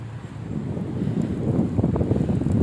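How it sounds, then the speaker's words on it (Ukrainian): Steady wind buffets the microphone, a low rumbling roar that swells slightly louder toward the end, with no voices. "зараз вітер такий, чи ви мене почуєте"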